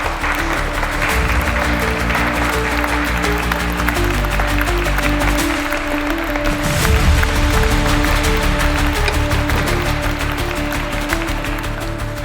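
A crowd claps steadily for the whole stretch, a dense wash of applause with faint music or voices underneath.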